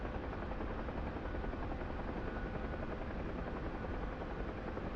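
A video-game helicopter, one that can fly inverted in a Syria campaign, drones steadily with a dense, loud rotor roar throughout, alone with no talking.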